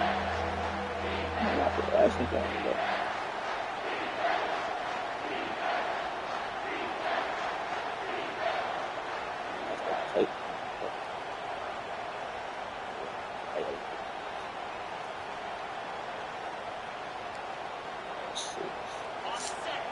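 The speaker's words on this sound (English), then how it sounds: "These fans are going absolutely nuts." Stadium crowd roaring steadily through a college football video game matchup of Cal versus Ohio State on third down, a constant distant wash of fan noise with commentators talking over it.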